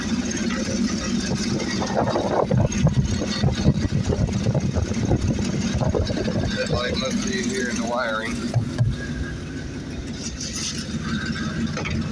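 A steady, rumbling GMC 6000 truck engine with an exhaust leak idles throughout with a rough, sputtering texture, while people talk faintly over it.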